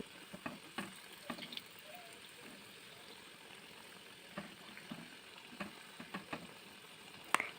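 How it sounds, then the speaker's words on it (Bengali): Pitha rice cakes deep-frying in hot oil as they are turned over, a soft continuous bubbling sizzle broken by scattered clicks and scrapes of stirring, fairly quiet and with no voices. "তারপরে পিঠেগুলোকে এপিঠ ওপিঠ নেড়ে চেড়ে সুন্দর লাল লাল করে ভেজে নিচ্ছি"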